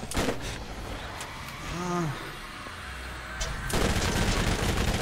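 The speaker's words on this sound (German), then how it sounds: "Von da oben schießt auch noch irgendwas." Gunfire raining down from above in the video game Borderlands, with bursts of rapid shots amid a dense battle din and a roaring creature cry in the middle, while a voice talks faintly.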